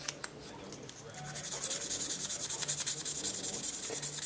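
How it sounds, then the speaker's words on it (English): Abrasive rubbing on the rusty blade of a Schrade Old Timer folding pocket knife, a close, dry scratchy scrubbing in quick repeated back-and-forth strokes that grow steadier and louder. "Just want to get that surface rust out of there."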